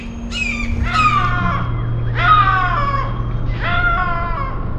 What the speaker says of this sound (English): The hell is all that noise? It was a hawk.